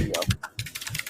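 Fast typing on a computer keyboard, with rapid clusters of sharp, close key clicks over about a second and a short pause in the middle.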